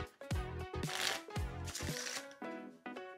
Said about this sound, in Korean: 이렇게 섞는 건 리플 셔플